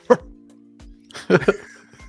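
A voices an imitation of a dog bark: one sharp yelp, then a quick double bark a second later, loud and close, with no other talk.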